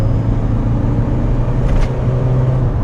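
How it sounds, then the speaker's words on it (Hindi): Kia Sonet diesel engine pulling under acceleration, heard from inside the car as a loud, steady low drone and road rumble that holds level throughout. "तो देखो डीजल इंजन जब खींचते हो तो क्या आवाज़ आती है भाई"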